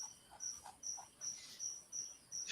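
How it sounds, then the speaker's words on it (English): Crickets chirp steadily at night in quick, evenly spaced bursts, faint and close, with a soft background hiss and no voices. "How do you know if you're counting one cricket or multiple crickets chirping at each other?"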